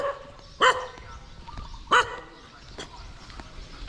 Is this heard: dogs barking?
yes